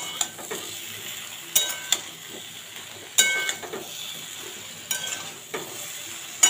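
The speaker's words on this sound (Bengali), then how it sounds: "আলু বেগুন আর কুমড়ো ভাজা হয়ে গেছে।" Potato, eggplant and pumpkin frying in a wok, a soft sizzle broken by several sharp clinks and scrapes of a spatula stirring against the pan.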